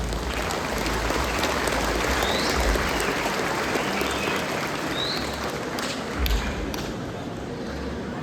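Outdoor crowd applause for a municipal philharmonic band of children and youths from Tlahuitoltepec at a calenda festival, a broad sustained wash of clapping with a few louder thumps, heard from a distance.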